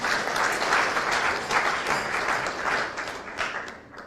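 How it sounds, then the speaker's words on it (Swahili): Dense, sustained crowd applause fills the air at a memorial rally for Mwai Kibaki, steady and loud throughout before tapering slightly at the end. "Haya, mupige makofi."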